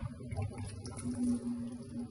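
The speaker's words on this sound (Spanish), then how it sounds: "Si le echo agua," Water pours onto a fish fillet in a steady, quiet trickle and splash lasting about two seconds, close up, with no talking over it.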